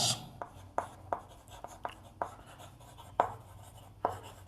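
Pen or pencil strokes writing numbers by hand on paper for a math lesson, a series of short sharp scratches at an uneven rhythm, close and clear over a quiet background.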